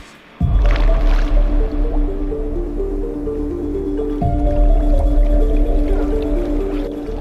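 Shoes are pulled off underwater by a swimmer, heard as a close, loud, muffled underwater rush. Squishing, bubbling tones and low thuds carry on throughout with no speech.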